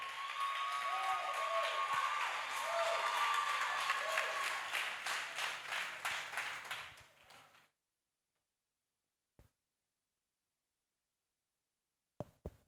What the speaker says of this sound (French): Est-ce qu'on peut applaudir pour l'évangéliste Allez Jean-Pierre?